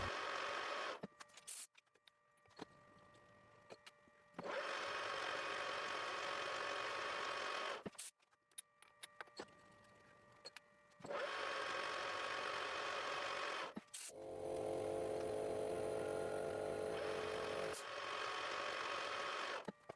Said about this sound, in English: All edges are cut with the carbide chamfer mill.